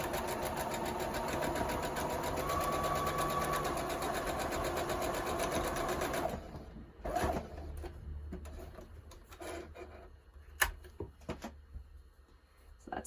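A sewing machine stitches a small bean-filled pattern weight, running in a steady, close whir for about six seconds before stopping, followed by quieter handling clicks and rustles.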